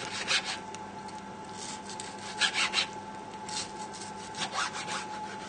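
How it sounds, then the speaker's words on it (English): A kitchen knife slices cooked steak thinly, making soft, close rasping strokes in short repeated bursts, with no one speaking. "So just slicing it nice and thinly"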